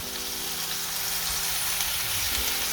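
Cajun-spiced homemade burger patties sizzling in a pan, giving a constant close hiss of frying fat with a faint low rumble under it and no talking.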